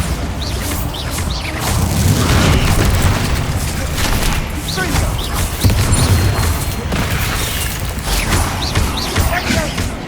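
Spell explosions in the video game Hogwarts Legacy come as loud repeated booms and crashing impacts in dense combat, with a voice casting spells over the din.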